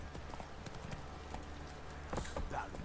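A horse galloping through town streets in the video game The Witcher 3, with quick, steady hoofbeats running under a soft game backdrop and a few scattered clatters.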